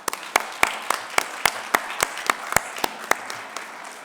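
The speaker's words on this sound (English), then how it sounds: "join me in a round of applause for them" Audience applause at a university alumni awards ceremony, a fairly sparse round of clapping with individual sharp claps standing out, steady for several seconds, heard from the room without talk.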